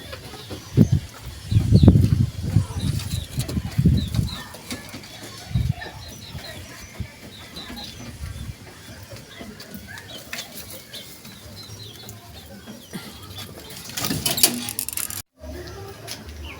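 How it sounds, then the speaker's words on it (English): Pigeons or doves calling and fluttering around a flowering plant in a raised-bed garden, with soft coos and wing flaps, louder bursts early on, then a quieter stretch outdoors. "The birds love it and they keep coming here."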